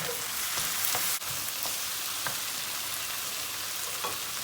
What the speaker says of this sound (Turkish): Yanmak üzere gördüğünüz gibi hemen domatesleri ilave ediyoruz.